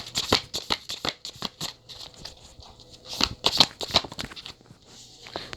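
Tarot cards shuffled and drawn from a deck, producing a quick run of crisp papery flicks and slaps at close range with short pauses between bursts, no voices.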